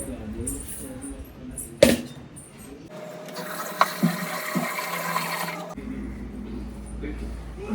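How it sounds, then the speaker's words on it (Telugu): Rice is being rinsed under running water: a gushing pour lasts about three seconds in the middle, with clinks and handling noises before and after and someone speaking at moments. "తనకైతే రైస్ కడిగి పెడుతున్నాను"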